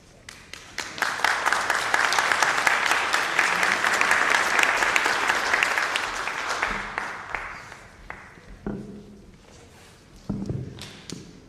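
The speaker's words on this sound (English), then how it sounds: "thank you very much for the applause" A town public hearing audience breaks into sustained applause that lasts several seconds and then thins out, followed by a few thumps and a speaker starting to talk.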